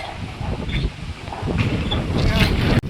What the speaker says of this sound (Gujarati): એટલો ભયાનક પવન આવી રહ્યો છે અમારા ગામમાં